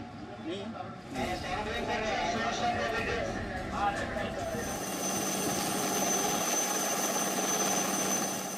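Coast guard helicopter during a sea rescue off Daman, a steady rotor and turbine roar, loud and continuous, with a news voice speaking over the start.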